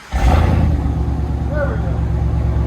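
A Ram 2500 Power Wagon's 6.4-liter Hemi V8 with muffler and resonator deleted fires up into a loud, deep, steady exhaust rumble close by.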